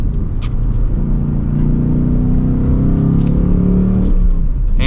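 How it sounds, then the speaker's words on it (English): A 2023 Ford Mustang GT coupe with a manual gearbox rumbles loudly from inside the cabin, its engine note rising and shifting as it rev-matches through downshifts on a test drive, steady and close. "it definitely has active rev matching. I can definitely feel that as I come to the downshifts there"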